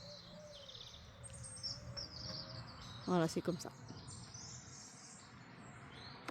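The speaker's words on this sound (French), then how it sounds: "Écoutez le chant des oiseaux, c'est quand même impressionnant. Ce chant cristallin." Birds sing outdoors around a yard where hens are kept, with bright, crystal-clear chirps and trills running throughout at moderate distance while a person speaks briefly partway through.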